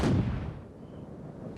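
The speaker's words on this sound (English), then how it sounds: "let's go shoot some bunnies" A single booming shot from a weapon in the online game Aura Kingdom, fired at bunnies, rolls out and decays over about a second, followed by a short sharp crack at the end; loud and close, no speech.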